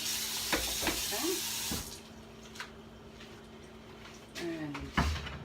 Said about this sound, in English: just put here a little cold water over those